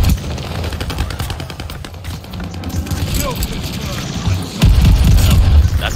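Gracey Auto automatic fire in Call of Duty Vanguard on the Shipment map, dense rattling bursts amid game noise and a heavy low boom near the end.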